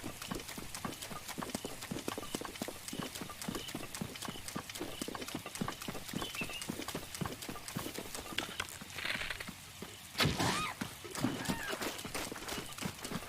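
Horse hooves clip-clop in a quick, steady rhythm in Breath of the Wild, close and continuous, with a brief louder scuffle and a snort near the end.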